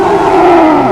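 A mosasaur from Jurassic World lets out a loud, deep, sustained roar, a single drawn-out bellow with a tonal growl that slowly bends downward.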